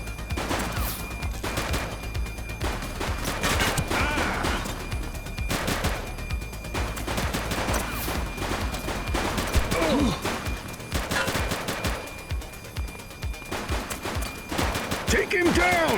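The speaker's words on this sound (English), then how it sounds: "He's shooting!" Heavy gunfire in the video game The Precinct, loud rapid volleys of shots on a PS5 Pro, mixed with voices shouting over the shooting.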